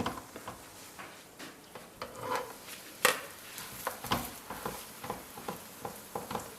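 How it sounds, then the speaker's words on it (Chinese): Flatbread dough fries in hot oil in a pan, giving a steady soft sizzle broken by irregular crackles and light taps, close and fairly quiet. "油热以后放入饼坯"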